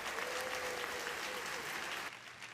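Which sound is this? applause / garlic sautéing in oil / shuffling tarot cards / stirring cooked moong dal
applause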